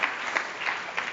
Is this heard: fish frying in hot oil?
no